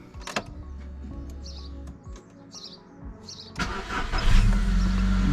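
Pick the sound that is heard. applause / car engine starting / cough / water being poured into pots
car engine starting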